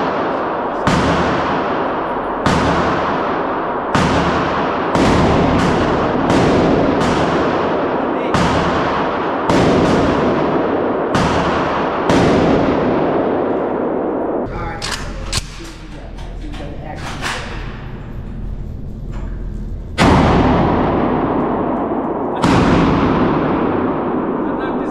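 Gunshots ring out at an indoor shooting range, a long series of loud, sharp cracks, each with a booming reverberant tail, fired in irregular bursts close by, with people talking between shots.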